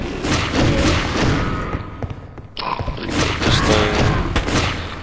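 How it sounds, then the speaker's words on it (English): A spore cannon firing in Half-Life: Opposing Force: a string of loud, booming thumps and impacts in quick succession, briefly dropping quieter midway before the heavy blasts resume. "Useful little spore cannon."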